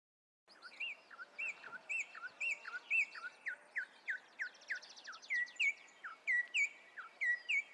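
Recorded songbird song from a species in which males and females both sing: a steady series of bright, rising chirped whistles repeats rhythmically for several seconds, clear and close against a quiet background.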